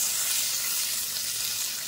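Chopped tomatoes and green chillies frying in a pan, a steady bright hiss of sizzling oil, continuous and close with no talk.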